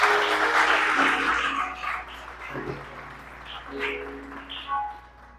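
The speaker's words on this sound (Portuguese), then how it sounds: "Você pode aplaudir o Senhor?" A church congregation applauds the Lord during a sermon. Loud, full clapping opens the stretch and then gradually thins and fades, with scattered claps and faint background noise toward the end.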